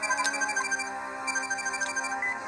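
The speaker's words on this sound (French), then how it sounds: "Coup de téléphone." A ringtone-style telephone rings during an Inazuma Eleven 2 video game cutscene, repeating electronic trill pulses at a steady rhythm, clear and close with no talk over it.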